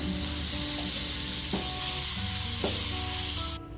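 Butter sizzles in a pan for masala sweet corn, a dense close crackle with a few sharp clinks of a utensil against the pan, then the sound cuts off near the end; no one speaks.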